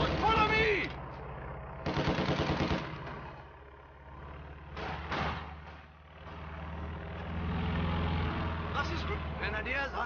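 Heavy machine gun bursts crack out across a Company of Heroes 2 battlefield. The loud, rapid volleys come in several separate bursts, with shouted voices and rumbling vehicle noise between and under them.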